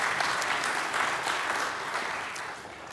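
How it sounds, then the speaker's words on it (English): Applause from a conference audience at CPAC Hungary 2023, honouring a US senator: a steady, dense clatter of many hands that fills the room and holds for several seconds, slowly thinning toward the end. "How about another round of applause for Senator Santorum?"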